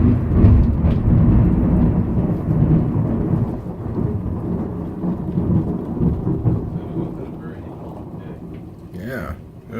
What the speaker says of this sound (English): Man, you hear that thunder?